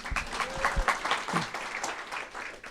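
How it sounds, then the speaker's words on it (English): Applause from a panel audience: a short burst of scattered, moderately loud clapping from a modest crowd, individual claps audible, tapering off after a few seconds. "Round of applause for Wendy."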